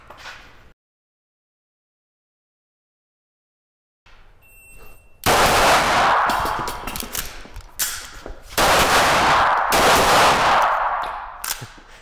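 Arex Alpha sport pistol fired at IPSC targets in a production-class match: loud, sharp shot bursts in quick succession after a brief silence, with no talk.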